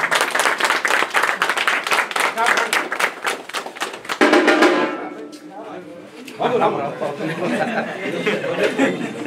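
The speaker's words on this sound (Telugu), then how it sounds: "అందరూ క్లాప్ చేయండి ఒకసారి." An audience at a film success celebration claps in a burst of rapid applause. The clapping fades into chatter and laughter, then picks up again with voices talking over it.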